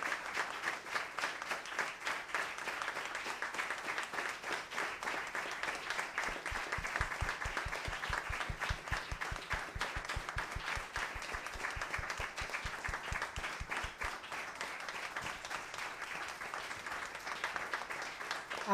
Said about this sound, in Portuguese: Um minuto de palmas